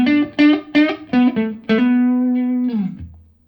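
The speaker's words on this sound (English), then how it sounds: "The reverb is very subtle, but it's a great kind of an always-on reverb." Electric guitar notes plucked through a Marshall DSL40CR amp, a few short picked tones then a held note, ringing out with a gentle tail of subtle reverb as it fades.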